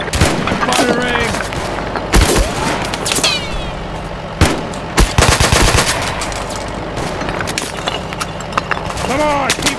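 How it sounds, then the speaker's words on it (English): Heavy battlefield gunfire in the war video game Mud and Blood: loud machine-gun bursts and single cracking shots throughout, with distant booms, shouted voices and continuous combat noise. "Fire is getting heavier."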